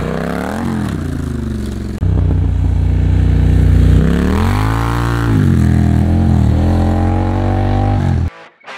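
A Triumph Scrambler 1200 motorcycle exhaust revs loudly up close, its pitch rising and falling through several throttle blips before cutting out abruptly at the end.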